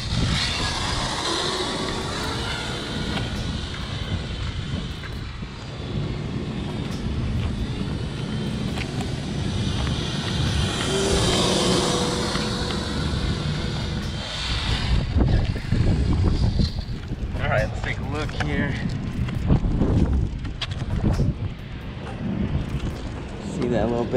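A Redcat Gen 8 RC crawler on a 3S LiPo runs with a continuous whirring electric motor and gear whine that rises and falls, while someone talks over it.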